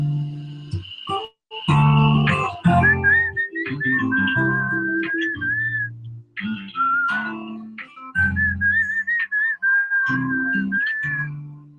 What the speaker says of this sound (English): we love your whistle